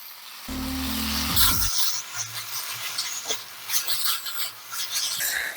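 Seaweed stems stir-fry in a pan over medium heat, giving a steady crackling sizzle with brief scraping stirs and a short hum near the start.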